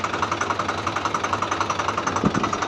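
A tractor engine idling steadily nearby, with an even, rhythmic chugging pulse and no voices.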